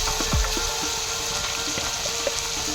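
Tomatoes hit hot oil with fried ginger and garlic in a pan for a Kerala-style curry, giving a steady, even sizzling hiss with a few faint pops and no talk.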